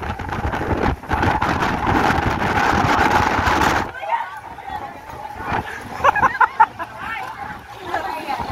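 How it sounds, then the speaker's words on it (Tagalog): Strong wind roars across the microphone at a high mountain roadside point in Atok, Benguet, a loud steady buffeting that drops off sharply, followed by quieter gusts with people talking and exclaiming. "Lakas ng hangin."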